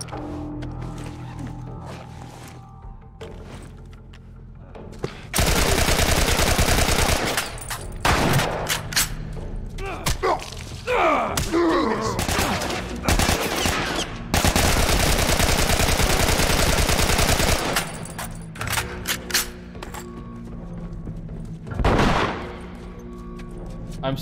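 Heavy gunfire from The Last of Us video game comes in loud, dense sustained bursts, with sharp shots and rumbling impacts layered over game sounds, louder through the middle section.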